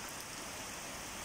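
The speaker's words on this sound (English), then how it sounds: "you could hear the sound of the rain" Rain falling during a summer thunderstorm, a steady even hiss of drops for a brief moment with no thunder or voices.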